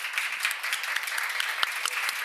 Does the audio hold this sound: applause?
yes